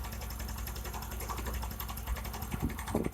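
A motorcycle engine idles during a carburetor screw adjustment, a quick even ticking putter at close range with small uneven bumps toward the end.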